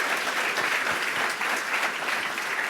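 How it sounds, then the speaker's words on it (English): Steady, dense applause from an audience at a music industry panel event, continuous and fairly loud for the whole stretch with no pauses. "Please give a big round of applause for them."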